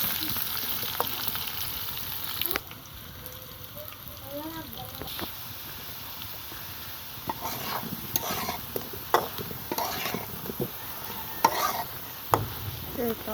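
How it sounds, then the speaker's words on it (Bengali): Potatoes fry in oil in a pan on a clay stove, giving a soft continuous sizzle broken by sharp spatters and the scrape of stirring. "এই তো আলুটা প্রায় ভাজা ভাজা হয়ে আসছে।"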